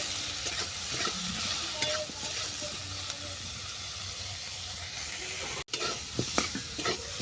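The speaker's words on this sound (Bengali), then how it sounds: "ব্রোকলিটা আমি 2 মিনিট ভেজে নেব।" Broccoli fries with salt and turmeric in a hot pan, producing a steady close sizzle and hiss with occasional stirring scrapes and a momentary break near the end.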